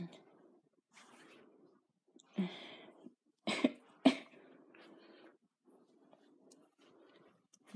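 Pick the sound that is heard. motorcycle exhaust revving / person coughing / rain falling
person coughing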